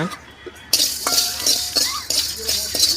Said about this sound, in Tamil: நல்லா கிளறி விட்டுடலாங்க